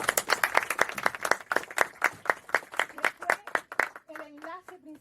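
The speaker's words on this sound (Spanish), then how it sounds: "y démosles un aplauso." A poetry reading audience breaks into applause, dense close clapping that holds steady and then thins out, with a voice starting to speak over the last moments.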